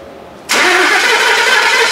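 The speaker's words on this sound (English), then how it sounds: "He's gonna plug the ECU back in and then it's time to fire up the engine." A Ford F150 pickup with a swapped Coyote V8 and twin-turbo kit fires up: a sudden start that jumps straight into a loud, steady idle and holds, with no voices.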